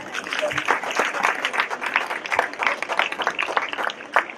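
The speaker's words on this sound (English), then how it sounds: "Another round of applause." Enthusiastic audience clapping after a stage skit at a Ganesh festival drama, a dense run of sharp claps holding steady for several seconds with faint voices mixed in.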